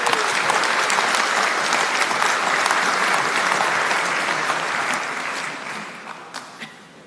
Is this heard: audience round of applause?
yes